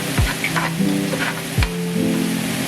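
Mushroom sauce for steak bubbles and sizzles in a pan, a steady frying hiss broken by a couple of low thuds and scraping stirs, close with no talk.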